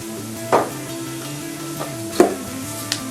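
Onions browning in a pan for venison meatballs, a soft steady sizzle with a few sharp stirring clacks standing out at intervals, near and alone.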